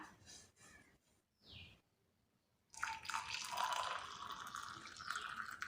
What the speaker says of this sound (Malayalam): നമുക്കിതൊരു ഗ്ലാസ്സിലേക്ക് പകർത്തി ഒഴിക്കാം.